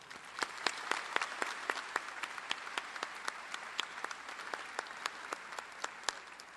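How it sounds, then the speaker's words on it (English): An audience at a university commencement ceremony applauds at a distance, the claps quick and crisp, holding an even level from start to end with no voices. "Rebecca Elizabeth Lambert, with a round of applause."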